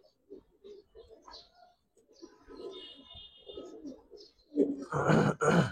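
Giribaz and coloring pigeons, a pair with a silver khaki hen and a milk khaki cock, coo softly and repeatedly nearby, followed by a louder burst of rustling or flapping near the end.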